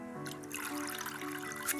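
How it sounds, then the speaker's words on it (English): Blanched rice for fish biryani being drained, water trickling and pouring steadily through for about two seconds, close and fairly loud, with no talking. "So I'm just going to drain it from the water."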